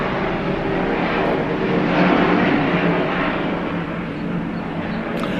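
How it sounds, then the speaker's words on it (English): A steady engine drone of a helicopter passing overhead, broad and constant, swelling slightly midway before easing off. "Helicopter."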